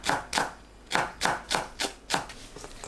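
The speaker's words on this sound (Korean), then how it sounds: "파를 작게 썰어서 준비합니다." A knife chopping green onion into small pieces on a cutting board, with about nine crisp, evenly spaced thuds in a quick steady rhythm, close and clear with no voices.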